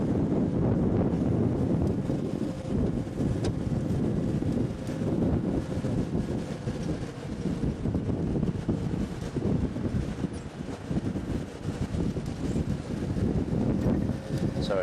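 Wind buffets a microphone on an open safari game drive, a loud, continuous rumbling roar with gusty swells that never lets up.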